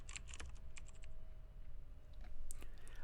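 Quick, irregular clicking of keys on a computer keyboard as a spreadsheet formula is typed, close and fairly loud, with short bursts and brief pauses and no talking.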